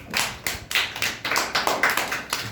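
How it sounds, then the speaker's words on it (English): An audience at a storytelling competition claps after a performance, a short burst of several sharp, near claps in an uneven rhythm with no talking. "Clap for Gaurav."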